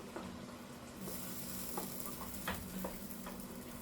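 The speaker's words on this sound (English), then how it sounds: "this is the sauce cooking process" Tomato sauce for baked shells simmering in a pot, a steady soft sizzle and bubbling hiss with occasional faint ticks and pops, quiet and close, without speech.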